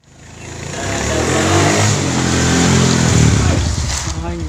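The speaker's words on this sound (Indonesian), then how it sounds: "Motor saha ieu?" A motorcycle engine runs close by and builds steadily, revving with a mid-pitched drone throughout, while people talk over it in a casual outdoor setting.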